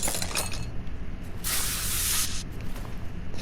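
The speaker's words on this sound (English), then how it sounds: "Spray the bolt first, then take it out." A spray can hisses onto a bolt in Car Mechanic Simulator 2021, a single bright burst lasting about a second, loud and close, set against a busy background of workshop game ambience.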